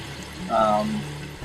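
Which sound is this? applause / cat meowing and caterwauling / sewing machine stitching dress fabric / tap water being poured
tap water being poured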